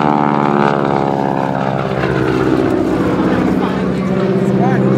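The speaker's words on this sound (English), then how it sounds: "Rolls the airplane upright, a half Cuban 8 maneuver." Droning radial engine of a Boeing Stearman biplane performing a Cuban 8 aerobatic maneuver at the 2012 Joint Base MDL airshow, loud and continuous with shifting pitch, under an announcer's voice.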